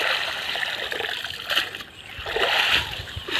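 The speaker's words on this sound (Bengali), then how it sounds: "জালটা ধুয়ে নাও, কাদাটা বেরিয়ে যায়।" A fishing net sloshed and rinsed in pond water to wash out mud, with splashing and trickling in uneven surges, up close, while people talk nearby.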